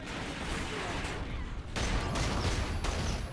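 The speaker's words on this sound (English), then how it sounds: "Everywhere, explosions, nine bangs." Nine-bang grenades burst in Call of Duty: Ghosts as a dense string of cracks and pops over game noise, with a sharp jump in loudness midway.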